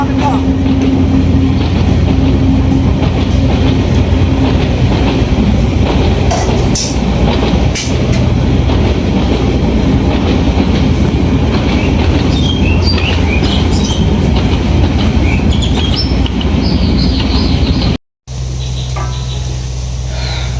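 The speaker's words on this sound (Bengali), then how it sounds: "ট্রেন চলেছে ট্রেন চলেছে" A train rumbles past at close range, a loud, steady roar of wheels on rails with occasional squealing, briefly cutting out near the end.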